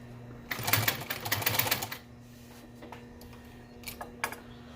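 A walking foot upholstery sewing machine stitches in a quiet room: a rapid mechanical clatter for about a second, then a few short isolated bursts, over a steady motor hum.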